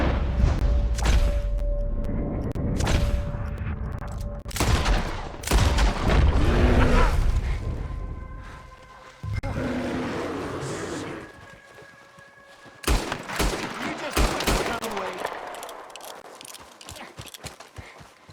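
Gunfire in Red Dead Redemption 2 crackles amid horse hooves, booms and dense action noise, with loud shots and bursts layered over busy game sound effects throughout.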